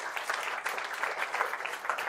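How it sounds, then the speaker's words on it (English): An audience at an indoor event applauds, a dense, fairly faint patter of clapping that continues steadily on its own. "Give them a round of applause."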